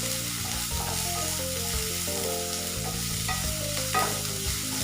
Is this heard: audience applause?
no